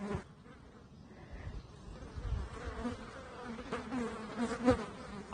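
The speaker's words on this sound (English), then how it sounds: "There's so many flies today." Flies buzz close by outdoors near horses and goats, a wavering insect drone that grows louder and busier toward the end, with no talking.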